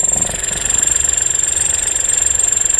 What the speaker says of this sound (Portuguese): o barulho da turbina ali, ó